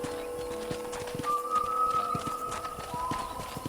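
Horse hooves clip-clopping in the Red Dead Redemption western game, a steady walking rhythm of soft, evenly spaced hoof falls with faint music underneath.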